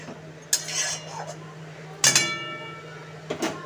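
Fried eggs being stirred into a simmering fish roe curry in a pot, a soft bubbling bed punctuated by three distinct metallic clanks of a spoon against the pot, close by, with no talking.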